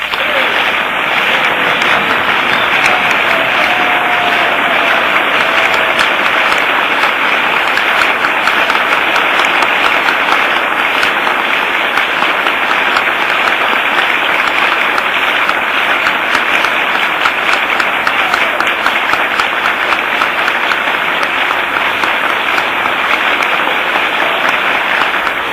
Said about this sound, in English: So the applause acknowledging the President's remarks, flashbulbs popping